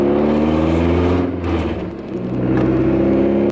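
Car engine with no muffler, a loud raw exhaust drone while driving, easing off briefly mid-way before building again, close and continuous.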